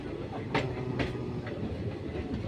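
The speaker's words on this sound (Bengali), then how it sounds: "সরুপাতা টু গুয়াহাটি যাচ্ছে এই ট্রেনে, ইন্টারসিটি স্পেশাল ট্রেন" An intercity special train running from Sarupathar to Guwahati, heard from on board as a steady low rumble with a few sharp rhythmic wheel clacks, moderately quiet.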